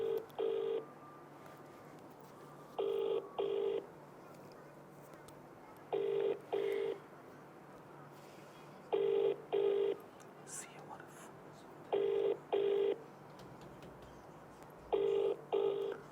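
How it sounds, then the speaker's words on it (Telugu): A phone ringback tone repeats in regular double pulses, six rings spaced evenly over a quiet background. "ఒకసారి ఫోన్ చేసే ప్రయత్నం చేద్దాం ఈయనకి."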